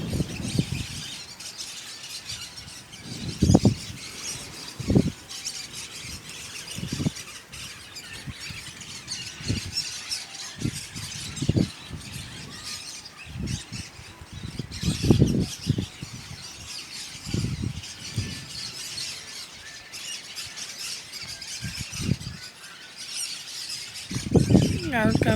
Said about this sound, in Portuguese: Que a gente chama de griguelinha, mas geralmente é conhecido como periquito.